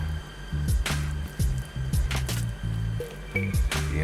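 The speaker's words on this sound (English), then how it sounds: "Just spread the tomato puree around a little bit." Tomato puree being spread over pizza dough for a brick-oven Jamaican pizza: repeated soft, wet squishing and smearing strokes close up, in an uneven rhythm, over a low steady background hum.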